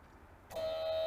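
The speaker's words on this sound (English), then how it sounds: "Got hit with the buzzer." A sudden electronic game-show buzzer tone cuts in after a quiet moment and holds steady, loud and sustained.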